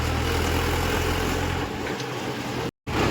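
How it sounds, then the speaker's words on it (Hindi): A tractor engine runs steadily while driving, a loud continuous low rumble that eases partway through, then cuts out briefly before resuming. "थोड़ा भगा लेते हैं ट्रैक्टर को"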